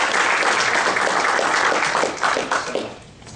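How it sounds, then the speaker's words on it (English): An audience gives a round of applause for the speakers at a day-one event wrap-up, dense clapping that holds steady and then thins into scattered claps and fades toward the end. "I'd ask you that you join me in a big round of applause for our speakers"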